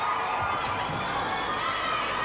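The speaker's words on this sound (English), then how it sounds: "And the crowd not liking that backline throw-in decision from Sharon Burge." Arena crowd at a 1996 Mobil Super League netball semi-final between Adelaide Contax and Melbourne, reacting to a backline throw-in decision with a dense, steady roar of voices, shouts and jeers that fills the whole moment.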